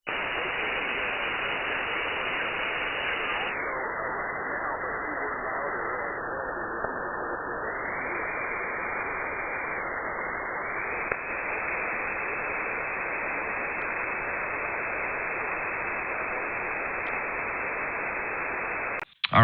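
Steady ham radio static fills the channel, a constant band-limited hiss on a shortwave receiver with any weak signal buried below the noise, ending in a brief click.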